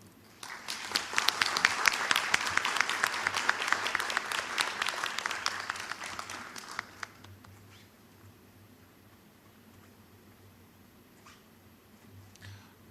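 An audience at the opening ceremony of a collegiate research paper competition applauds for about six seconds, a dense burst of clapping that then fades out, leaving quiet room tone.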